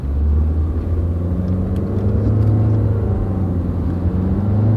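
Car with a CVT transmission pulling away on a road, a loud, steady low engine drone and road rumble heard from inside, rising smoothly without distinct gear shifts.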